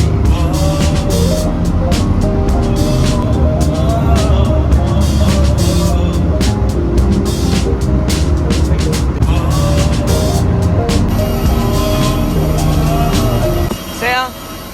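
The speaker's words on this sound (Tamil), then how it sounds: "நாங்கள் வந்து இப்போது பஸ் ஏறிட்டோம்" Inside a moving bus on a trip toward Bangalore, a loud continuous engine drone and road rumble fill the ride, steady throughout with a brief dip near the end, and voices mixed in underneath.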